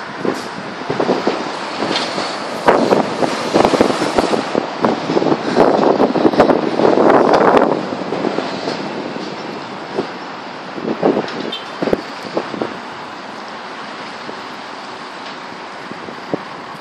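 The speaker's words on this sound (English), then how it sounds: "It's still windy." Strong tropical storm wind gusts roar and buffet the microphone, surging loudly then easing into a steadier rush.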